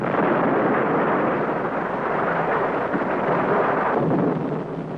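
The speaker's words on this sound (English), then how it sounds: "The powerful atomic bomb, detonated by remote control from Earth, completely destroys the converter and the pumping system." A powerful atomic bomb detonated by remote control destroys a methane-to-oxygen converter and pumping system on Neptune, a radio drama effect: a sustained loud rumbling roar, dense and steady for about four seconds before easing slightly.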